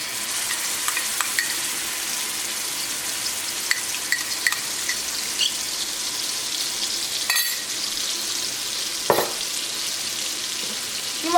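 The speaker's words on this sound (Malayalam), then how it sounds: "ഈ മുളകിൻ്റെ പേസ്റ്റ് ഇതിനകത്ത് കിടന്നിട്ട് നന്നായിട്ടൊന്ന് മൊരിയണം." Chili paste frying in hot oil for a chicken fry, a continuous close crackling sizzle with occasional scrapes and knocks of stirring, no talk.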